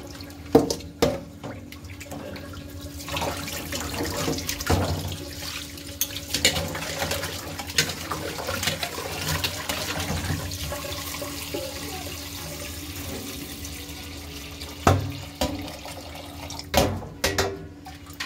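Fish pieces are swished and washed in a bowl of water, with close, irregular splashes and sloshing that come in bursts and brief lulls.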